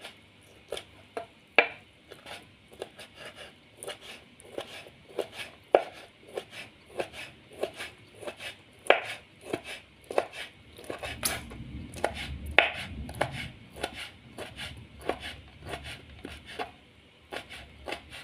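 A knife chopping chicken gizzard thinly on a board for balado cireng filling, producing a steady run of close, crisp knocks with a brief rougher scraping stretch partway through.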